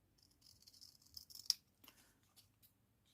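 Scissors snipping through sequined fabric for a vintage-style dress, a quiet run of close, crisp cutting clicks with one sharper snap midway, then a few softer snips.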